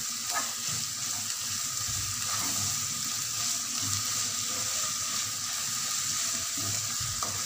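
Onions with a little sugar fry in a pan for a Moroccan meat dish while being stirred; a steady soft sizzle runs throughout, with occasional scraping from the stirring.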